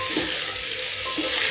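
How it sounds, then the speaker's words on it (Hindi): Jackfruit frying in hot oil with asafoetida and cumin, a dense, loud hiss of sizzling oil with a couple of soft stirring knocks, close and steady. "अब इस कटहल को इसमें हल्का हल्का हम फ्राई कर लेते हैं।"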